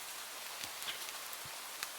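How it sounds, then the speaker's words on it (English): Steady rain falls in a video game, a continuous soft hiss with faint scattered drop taps, heard alone with no talk. "When in the middle of your walk, it starts to rain."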